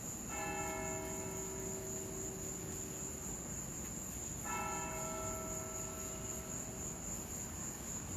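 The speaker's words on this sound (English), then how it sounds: "What's the name of the church of where the bells are coming from, Henry?" Church bells ring from a church across the street, sounding two distinct peals spaced a few seconds apart over a constant background hum and hiss.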